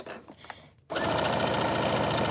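Sewing machine stitching fabric at about 2.5 stitch length with a scant quarter-inch seam, starting abruptly after a brief quiet moment, then a loud, steady rapid whirring and clatter close by.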